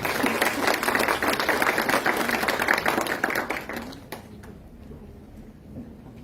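Applause from the audience at a university oratory contest held at a superior court of justice in Cusco, dense clapping for about four seconds that then thins to scattered faint claps.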